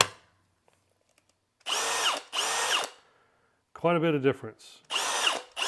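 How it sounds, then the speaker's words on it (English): A Milwaukee M18 cordless drill on a rebuilt battery pack of harvested 18650 cells spins in three short bursts, loud whirring runs separated by pauses, with someone speaking briefly between them. "I can definitely feel the torque in the drill."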